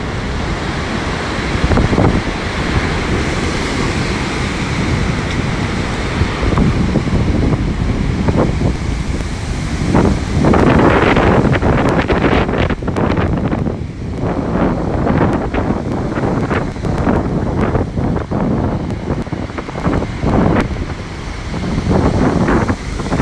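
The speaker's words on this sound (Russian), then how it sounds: "Сегодня в Сочи ливень, ветер и шторм." Stormy wind buffets the microphone over crashing surf on the sea at Sochi during a rainstorm, a steady loud roar with repeated wave breaks and no talking.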